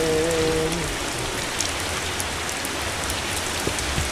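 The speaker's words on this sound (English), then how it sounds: "Oh, that's the rain, get inside." Acid rain pours steadily in a survival video game, a dense, even hiss of drops hitting surfaces with a few sharper drips throughout and no voices.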